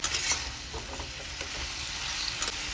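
Fried vegetable balls stirred into a sauce of soy sauce, capsicum and green chilli in a pan, a loud continuous sizzle with scraping stirring strokes, no talking.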